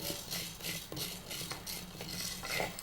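Urad dal is roasted and stirred in a pan, making soft rhythmic scraping and rattling strokes about every half second over a faint sizzle, quiet and close.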